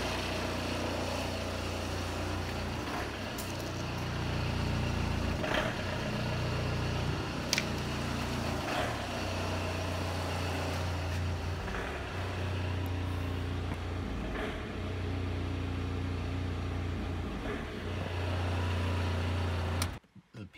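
A VW ALH TDI diesel engine with an EGR insufficient-flow fault runs extremely rough and smoky inside a garage, producing a continuous low rumbling clatter with uneven knocks and occasional sharp ticks, steady and moderately quiet throughout.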